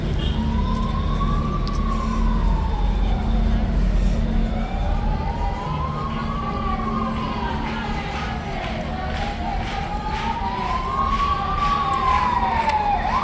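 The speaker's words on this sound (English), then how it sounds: "That's a fire truck" A fire engine siren wails in slow rising and falling sweeps along a Madrid street during a power outage, steady and fairly near over a busy crowd murmur and traffic noise.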